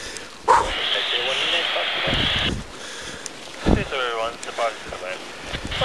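Wind gusts across a snowy hilltop at Forret Hill in Fife during a paragliding launch in December, a broad steady rushing with microphone buffeting and a few sharp bumps, with brief speech partway through.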